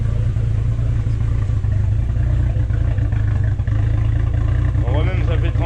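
A BMW 325i bi-turbo engine idles roughly with a steady, close low rumble and shaking, undertoned by a faint whine, while a person talks over it.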